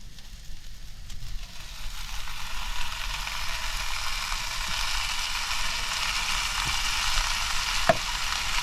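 Tinned spaghetti bolognese is stirred in a pan outdoors, giving a soft, steady sizzle with faint scraping and a few small clicks, and no talking.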